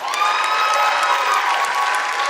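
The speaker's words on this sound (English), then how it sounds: "give a round of applause for Mr. Cruz" A school audience at a high school senior awards ceremony applauds and cheers for a presenter, a dense, steady wash of clapping and shouts filling the room for the whole stretch.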